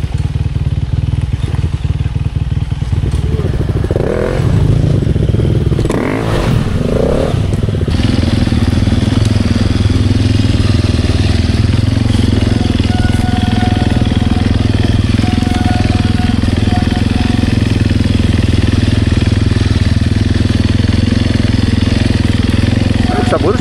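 Enduro motorcycles on a trail ride at Karya Olympou in October 2024: engines crackle and rev unevenly, then one fires up loud and close and keeps droning and revving, with people talking over the noise.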